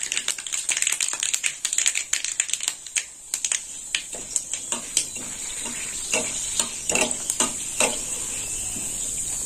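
Dry red chillies and black mustard seeds frying in hot oil for a potato tempering, with dense crackling pops and spits over a steady close sizzle.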